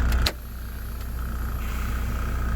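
A truck trailer's air brake system on a Class 1 rig, with the trailer valve applied: a short, sharp burst of exhausting air at the start, then a steady low hiss and idling engine drone.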